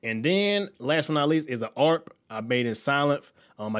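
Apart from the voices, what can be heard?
No distinct noise like a dog, phone or traffic.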